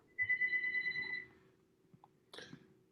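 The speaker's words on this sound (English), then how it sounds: "My phone is ringing at the same time." A phone rings with one electronic trill lasting about a second, followed by quiet room noise and a brief cough-like sound near the end.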